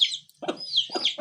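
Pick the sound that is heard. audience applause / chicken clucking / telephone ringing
chicken clucking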